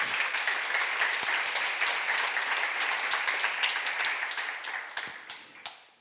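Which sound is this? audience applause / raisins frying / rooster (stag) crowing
audience applause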